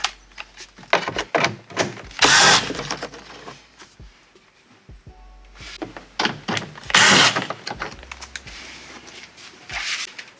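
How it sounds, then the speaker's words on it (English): A cordless drill with a 6 mm nut driver whirs in short bursts, with clicks and rattles between runs as screws are backed out of a 2004–2008 Ford F-150 rear door panel. "I'm using a nut driver on my drill"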